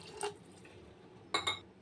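Water pours into a pressure cooker of sautéed banana stem for kootu. Two brief splashing bursts ring against the metal vessel, one near the start and one later, with quiet between them.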